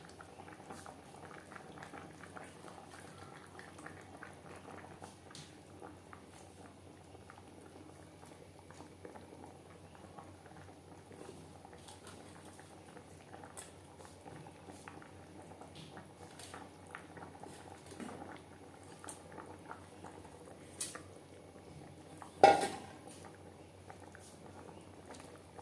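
Curry gravy with rui fish and data stems simmering in a pan, a steady low bubbling that carries throughout, with one sharp clink of a utensil near the end.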